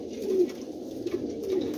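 A large pigeon kept by a Jhelum pigeon fancier gives low, soft coos, three or so in a steady rhythm, close by over a faint background hum.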